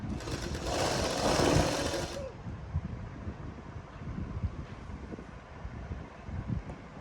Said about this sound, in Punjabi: ਦੋਨੇ ਪਾਸੇ ਮਾਰਜਨ ਲੈ ਕੇ ਇਹ ਸਲਾਈ ਲਾ ਲੈਣੀ ਹੈ